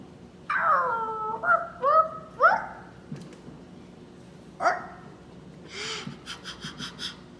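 A child imitates a dog howling and yelping outdoors, a run of rising, wavering vocal cries followed by a few shorter whimpering yips, fairly close with brief pauses between calls.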